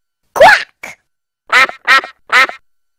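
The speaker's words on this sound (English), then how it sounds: "Q is for quack." A duck quacks loudly and close up, one long quack, a short one, then three quick quacks in a row.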